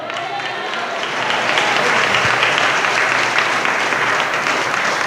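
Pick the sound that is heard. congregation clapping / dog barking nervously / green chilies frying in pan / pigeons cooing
congregation clapping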